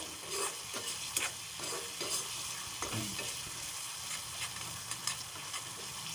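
A spoon stirs Gobindobhog rice khichuri in a pot with sugar and coconut, giving a run of close scraping strokes over a steady sizzle, with no talk.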